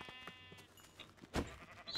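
A Minecraft sheep bleats once, brief and fairly faint, amid quiet game sounds.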